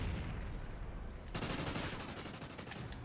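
Automatic gunfire rattles in a Call of Duty: Ghosts multiplayer match, a muffled background hum giving way to a sudden sustained burst of rapid shots that carries on to the end.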